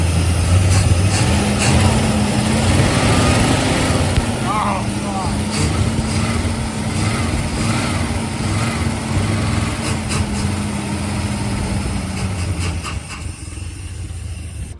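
A 1971 Plymouth Fury, abandoned for over 20 years, runs roughly at a rough idle, a steady loud engine drone that keeps going for about thirteen seconds, then fades out as the motor dies. Someone speaks briefly over it.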